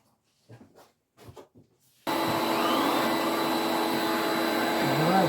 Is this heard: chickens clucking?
no